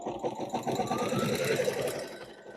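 An embroidery machine stitches fabric pieces for a cathedral window quilt block, a steady, fast mechanical whir and patter that runs without a break for a few seconds, close and with no speech.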